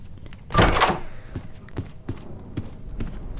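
In a video game, a door is unlocked and swung open with a loud creaking burst, followed by a series of soft, evenly spaced footstep thuds.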